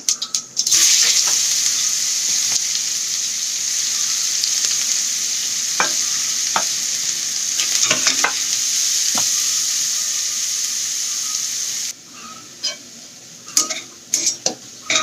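Cumin, mustard seeds and chopped onion fry in a pan for pavta amti, giving a steady, close sizzle broken by stirring clicks and clatter. The sizzle quiets sharply near the end, leaving sparse utensil taps.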